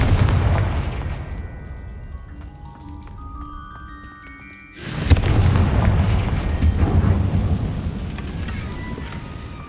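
A Confringo blasting spell explodes in the Hogwarts Legacy video game: a sudden loud burst hits midway through a quiet passage of background music, followed by a sustained rumbling, crackling aftermath.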